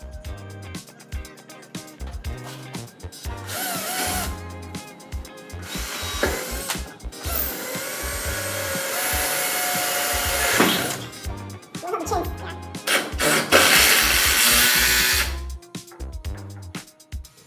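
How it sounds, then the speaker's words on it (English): A power drill whines in repeated bursts, drilling a pilot hole and driving a self-tapping wood-to-metal screw through wood into a shipping container's metal, with short pauses and some handling noise between runs. "Vion is drilling a pilot hole and then using a wood-to-metal self-tapping screw"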